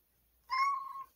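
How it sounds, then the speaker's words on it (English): A cat at a door lets out a single short, clear meow, close and moderately loud, after a moment of near silence. "Cat on the door."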